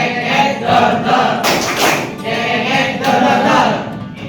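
A classroom group clapping together in a steady patterned rhythm, loud and close, with a brief burst of louder clapping midway.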